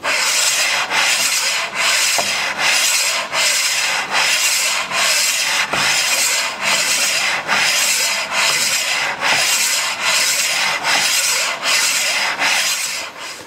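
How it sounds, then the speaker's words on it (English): A rotating disc polishes the bed of a Weinig U140/4 machine in regular back-and-forth strokes, a loud, rhythmic abrasive rubbing that repeats about once per second with no talking. "it's important that you rotate the disc, as you're polishing"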